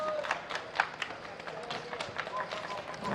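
Clapping at a poker table during the World Series of Poker Main Event, a few light, scattered hand claps heard under a steady background of crowd murmur and commentator talk.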